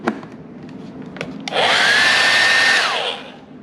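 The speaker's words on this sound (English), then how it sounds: "There you go, the hairdryer works." A hairdryer switches on and blows with a steady, loud whooshing roar for about a second and a half, then cuts off, after a few faint clicks from handling the plug and switch.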